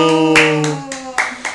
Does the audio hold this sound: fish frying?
no